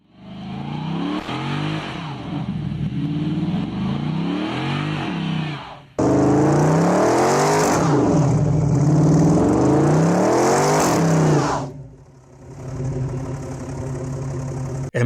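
Dodge Charger SRT8 with a 6.1-liter Hemi V8 revving repeatedly, loud close engine roars rising and falling in several bursts, then settling toward an idle near the end.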